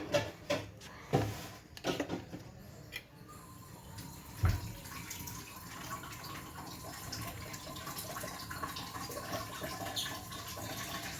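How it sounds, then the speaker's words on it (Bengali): A kitchen water tap runs in a home kitchen during cooking, a steady close hiss of flowing water building after a few brief clatters and knocks. "কলটা বন্ধ করে দাও, আওয়াজ হচ্ছে।"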